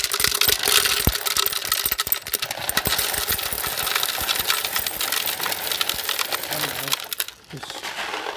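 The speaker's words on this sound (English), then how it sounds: "So we'll go ahead and we'll add some gravel." Gravel poured into a coin tumbler built from an HP printer, a dense run of rapid rattling clicks and small impacts that thins out and stops near the end.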